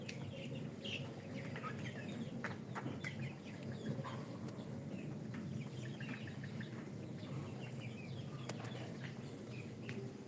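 Chickens cluck and chirp intermittently on a farm, soft and somewhat distant over a steady low background hum, with scattered short calls and no talking.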